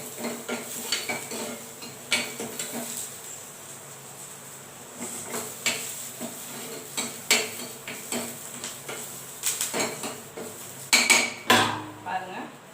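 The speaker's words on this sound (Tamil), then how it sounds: "நல்லா ஃப்ரை ஆகட்டும்" Sliced onions frying in a pan on a home stove for a lentil dish, stirred with a metal spoon: repeated clinks and scrapes of utensil on pan over a soft, faint background, fairly close.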